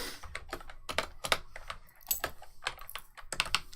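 Someone types on a computer keyboard nearby in irregular bursts of clicky keystrokes, with brief pauses between flurries and no talk.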